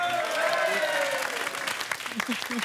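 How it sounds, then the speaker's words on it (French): A TV studio audience applauds a married couple celebrating thirty years of marriage, a dense burst of clapping that fades as a voice talks over it. "applaudissements pour Chantal et Alain"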